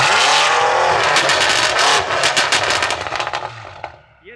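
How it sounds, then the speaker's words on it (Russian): A BMW M5 with an aftermarket exhaust revving hard, a loud close roar crackling with rapid pops and bangs that fade away near the end, with no talk. "Он пытается там послушать мой стоковый выхлоп, но вот слушайте."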